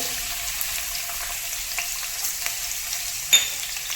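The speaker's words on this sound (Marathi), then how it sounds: "आता तेल ही गरम झालं आहे आता त्याच्यामध्ये बारीक चिरलेला लसूण घालून घ्यायचा आहे" Minced garlic sizzling in hot oil in a nonstick pan over a high gas flame for chicken noodles: a steady, close frying hiss with one sharp crackling burst near the end, and no talking.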